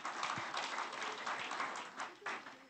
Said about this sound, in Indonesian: Mohon berikan tepuk tangan untuk beliau.